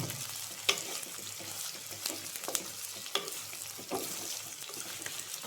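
Two medium sliced onions fry in a pan with a steady, dense sizzle, stirred now and then with a few soft scraping knocks, close and continuous with no voices.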